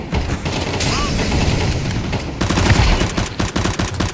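Rapid UMP submachine gun fire from a shooter video game, dense bursts of automatic shots running throughout with brief pauses, mixed under game effects and some background voice.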